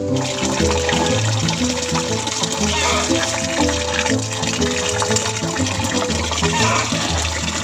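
Water flows steadily from a tap into a container, a continuous close rushing and filling sound with faint background noises.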